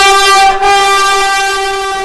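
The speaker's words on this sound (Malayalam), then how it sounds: "ഈ വന്ദേഭാരത് എക്സ്പ്രസ് ട്രെയിനുകൾ കുതിച്ചു പായും." A Vande Bharat Express train in Kerala sounds its horn in one loud, sustained, steady blast lasting about two seconds, heard close by.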